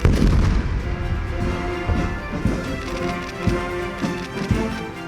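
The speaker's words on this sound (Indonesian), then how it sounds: "Dentuman meriam sebanyak 21 kali turut menandai penghormatan kepada Presiden Prabowo" A 21-gun cannon salute at a Malaysian state welcoming ceremony for Indonesian President Prabowo: a dense, low rumble with repeated heavy booms thudding at a steady pace throughout.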